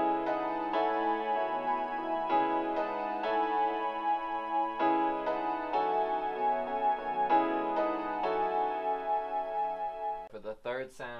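Layered piano and a soft synth pad from Reason's stock sounds play sustained chords together, with rhythmic chord changes every second or so, ending in a brief burst of different tones.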